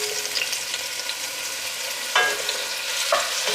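Chopped onion, tomato and jalapeno sizzle in hot oil in a pot for a bean stew, a steady close hiss broken by a couple of sharp stirring scrapes of a spoon against the pan.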